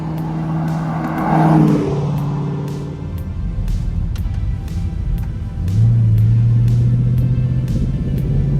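A C8 Corvette climbing Pikes Peak, its engine humming steadily at low speed, then revving louder and lower around the midpoint, with faint repeated ticks and clicks over the drone.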